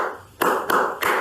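Three sharp hand claps ring out in a short rhythm during a beginner sight-reading lesson, close and clear, with no one talking over them.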